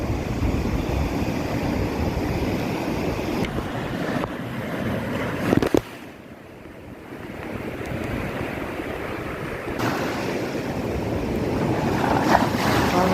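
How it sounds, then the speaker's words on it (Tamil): Giant storm-driven sea waves surge and crash steadily against the shore at Point Pedro (Paruthithurai), a loud, continuous roar with wind buffeting the microphone. "வந்து வந்து அடிக்குது தண்ணி"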